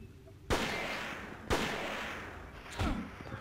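Gunfire in Forbidden Siren: three loud, sharp gunshots about a second apart, each followed by a long echoing decay, close and dominant.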